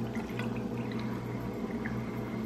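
Espresso with brown sugar is poured into a drink, a soft continuous trickle of liquid over a low steady hum, faint and without speech.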